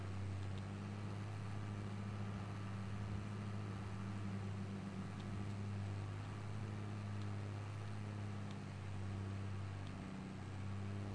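A forage harvester chopping corn runs as a constant low mechanical drone with a strong steady hum and faint clicks, unchanging and fairly quiet throughout.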